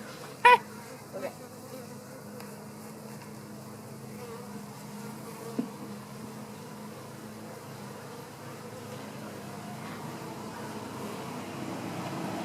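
Honeybees hum around an open hive during a beekeeping lesson, a faint steady drone heard close with a few soft knocks and clicks on top.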